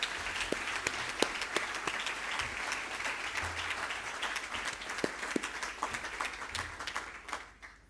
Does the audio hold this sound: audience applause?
yes